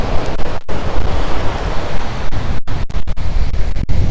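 Ocean waves break and wash steadily onto a Caribbean resort beach at Costa Mujeres, a loud, continuous roar of surf with wind buffeting the microphone, no voices.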